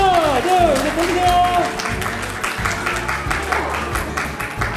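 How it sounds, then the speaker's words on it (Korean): Guests at a wedding ceremony clap in scattered, uneven bursts while voices talk over them and a whistle-like tone briefly sounds. "박수 한번 쳐주세요"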